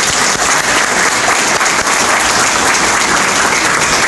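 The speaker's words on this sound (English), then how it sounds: "If we could give her a round of applause, please." Guests at a chamber of commerce lunch give a loud, sustained round of applause, many hands clapping densely and evenly throughout with no talking over it.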